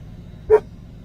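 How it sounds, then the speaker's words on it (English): A single short bark from Nicky the dog, somewhat distant and fairly faint over a low rumbling background. "What you barking at?"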